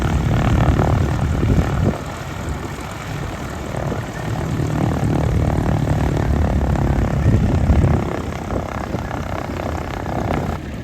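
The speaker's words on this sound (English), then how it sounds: "The plane that you see taking off is actually this plane right here." A propeller plane drones loudly overhead, its engine roar swelling and easing as it passes, steady and close without any talking.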